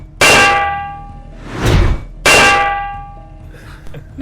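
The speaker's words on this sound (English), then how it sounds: "apologise for your mighty hammer blows as they dent the U-boat" Two loud ringing metallic clangs of a hammer striking a U-boat's metal hull, each blow sharp and resonant with a long decaying ring, separated by a duller thud, alone with no talk.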